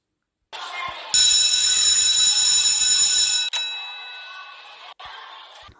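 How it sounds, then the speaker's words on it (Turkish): A loud electric school bell rings continuously for a few seconds, then cuts off, leaving a fainter ringing tone that continues after a brief gap. "zil çalmış"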